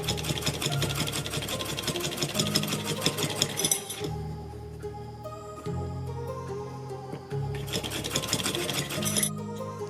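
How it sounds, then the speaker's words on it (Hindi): A sewing machine rattles rapidly as it stitches a fabric strip for a kurti neckline, running in two bursts with a brief pause in between, close and clear. "इसके ऊपर रखते हुए पहले एक साइड में सिलाई लगाएंगे"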